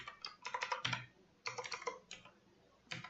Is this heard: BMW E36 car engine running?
no